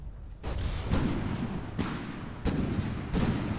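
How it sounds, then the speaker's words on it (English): Heavy volleys from large twin-barrel gun turrets on a paddleship in a video game, a series of deep booming blasts about every second, each with a rumbling tail, over a quiet low background. "finally unleash the volleys from the majority of guns"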